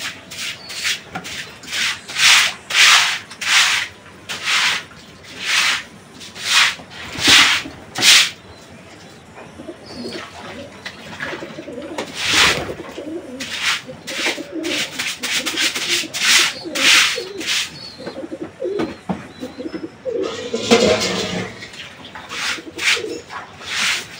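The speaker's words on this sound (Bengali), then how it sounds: "জল ঢেলে পরিষ্কার করে দিলে একদম চকাচক হয়ে যায়" A pigeon cage is scrubbed clean with water, producing a run of rhythmic, loud scraping strokes at first, then softer rubbing and shuffling, with occasional pigeon sounds nearby.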